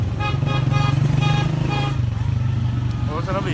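A 125cc motorcycle engine drones steadily while it is ridden, with loud voices talking over it and short horn toots.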